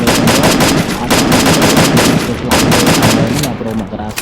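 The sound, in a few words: gunfire in a shooter video game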